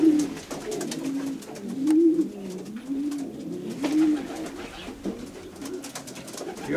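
Racing pigeons in a loft give repeated soft, throaty coos that swell and fade in a steady rhythm, close by, with faint rustling and clicks in the background.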